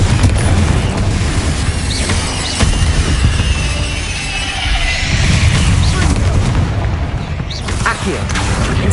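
A blasting spell exploding in the Hogwarts Legacy video game, loud booming bursts amid dense game effects, with a voice talking over the noise.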